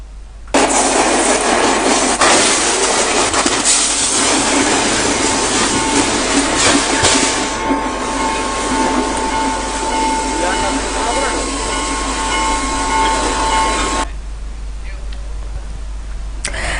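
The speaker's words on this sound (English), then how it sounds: "it was knocked down by the Polgahavela-Colombo train and the accident was recorded in a mobile phone" Polgahavela-Colombo train striking a container carrier stuck on a level crossing, recorded on a mobile phone: a loud rumbling roar with rattling and screeching that runs for about fourteen seconds, then fades abruptly to quiet.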